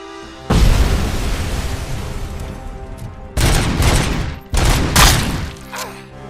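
Gunfire from the video game Robocop Rogue City: dense, sustained bursts of shots with heavy low-end booms, breaking off briefly twice before resuming, loud and close.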